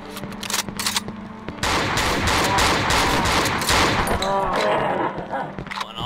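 Loud, sustained automatic gunfire from the horror video game Cry of Fear, a dense rattling barrage after a few opening shots, with a voice faintly underneath.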